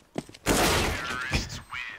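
AK rifle fire in Counter-Strike on the Nuke map during a pro ECS league match, heard as a loud dense burst of shots lasting over a second, with brief clicks before and game effects after, under excited casting.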